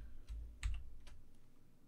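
A few quick keystrokes tap on a computer keyboard, close and fairly faint, with no talking.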